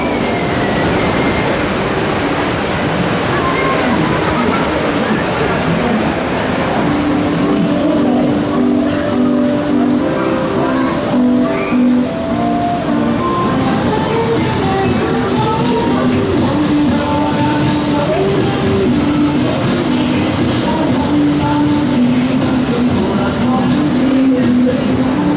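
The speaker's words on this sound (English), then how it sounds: "the Viking River Splash at Legoland's a very underrated water ride" The Viking River Splash water ride at Legoland Windsor rushes along with a constant loud roar of churning water and ride machinery, with shrill tonal sounds and distant voices mixed in.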